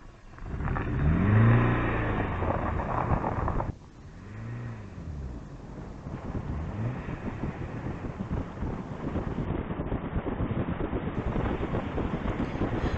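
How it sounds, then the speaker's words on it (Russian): A 2006 Mini Cooper Cabriolet R52 drives a hairpin road, its engine rising loudly, dropping and then droning steadily as it accelerates between bends, with heavy wind buffeting throughout. "Здесь разворачиваемся, и мы с миником едем к следующей шпильке."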